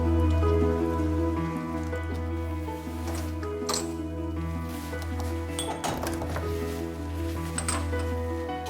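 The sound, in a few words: sudden rain falling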